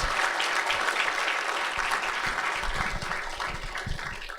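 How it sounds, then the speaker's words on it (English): An audience at a Boston Celtics esports livestream event applauds, a dense continuous wash of clapping that stays strong from start to end, with no talk over it. "another round of applause, please, for Jim and the Boston Celtics"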